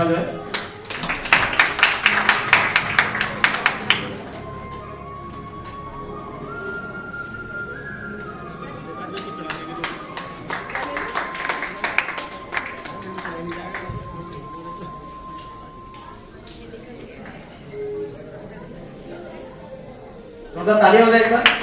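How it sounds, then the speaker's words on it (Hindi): Audience at a sports award ceremony claps in a burst of applause during the opening seconds, then fades to a thin background with a steady whistle-like tone and scattered sounds, before a second short clapping burst at the end. "जोरदार तालियां हो जाए।"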